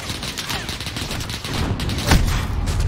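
Sniper fire in Call of Duty Warzone cracks out amid a busy battle, with rapid rattling shots and one louder report near the end over constant rumbling combat noise.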